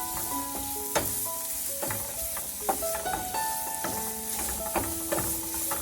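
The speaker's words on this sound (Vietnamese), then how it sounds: "Khi dầu nóng thì mình đổ gừng, hành và tỏi vào," Ginger, onion and garlic hit hot oil in a pan and are stir-fried, a loud steady sizzle with repeated clinks and scrapes of a spatula against the pan, no talking.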